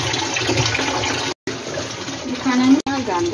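Okra is rinsed under open running tap water in a kitchen, a steady splashing stream with two short breaks, with someone talking over it.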